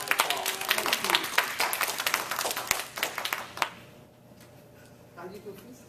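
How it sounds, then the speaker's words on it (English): Audience clapping at a Toastmasters meeting, a burst of claps from a modest crowd that dies away after a few seconds, leaving faint room sound and a brief murmur. "So give them a round of applause."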